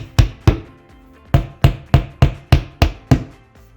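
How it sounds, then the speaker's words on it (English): Sharp, loud hammer blows drive wall anchors into a wall eight times in an uneven rhythm, each with a short ringing decay, close up and without talking. "Then hammer the wall anchors into the wall."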